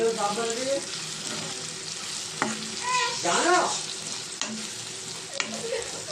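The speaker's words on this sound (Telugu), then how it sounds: "దీంట్లో ఓ స్పూన్ కారమును ఒక స్పూన్ ధనియాల పొడి వేసుకుందామండి ఇవి మంచిగా కలుపుకుందాం" Softened onions stirred in a pan with chili powder and coriander powder: a soft continuous sizzle with occasional scraping clinks of the spoon, while a voice briefly comes and goes in the background.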